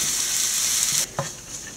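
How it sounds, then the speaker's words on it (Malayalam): A loud, steady sizzle of grated coconut frying in a hot pan cuts off abruptly, followed by a couple of soft stirring scrapes. "നല്ലപോലെ തേങ്ങ വറുത്തിട്ടുണ്ട്"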